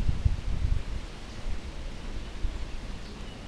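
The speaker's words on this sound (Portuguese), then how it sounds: "vocês vão estar ouvindo o barulhinho do vento, que tá ventando bastante hoje aqui" Wind blows across a backyard, producing a low, gusty rumble and a soft rush that buffets strongest at the start and then eases into a steadier breeze.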